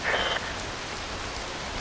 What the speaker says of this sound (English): Wind blows, rain falls.